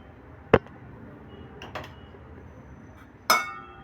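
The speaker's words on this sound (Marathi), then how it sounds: "आता आपण भांड्यामध्ये ते लावून घेऊया स्टीमला ठेवूया" Kothimbir vadi pieces set into a metal steamer vessel, giving a sharp clink near the start, a few soft knocks in the middle and another bright metallic clatter near the end, with no talk.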